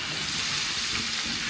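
Food stirred in butter and olive oil in a pan while making chicken fettuccine Alfredo, giving a brief, dense, even sizzle up close with no talking.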